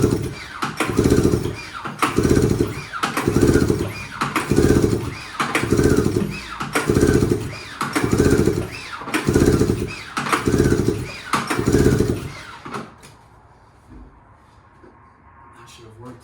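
A nitrous oxide powered RMK snowmobile engine is pulled over repeatedly, giving about ten rhythmic, chugging cranking bursts roughly one second apart. The cranking stops near the end, leaving quiet background.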